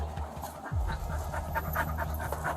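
A dog pants steadily and close by at an outdoor roadside scene, rapid breathy puffs continuing over a low rumbling background.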